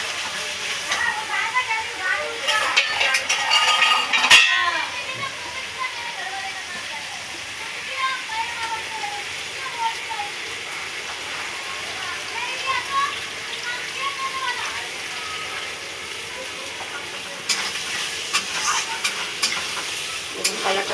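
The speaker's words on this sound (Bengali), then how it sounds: "এবার আমি জল দেব।" Egg omelette curry simmering and sizzling in a pan after water is added, a steady hiss with stirring and scraping, louder bursts early on, and a voice talking over it.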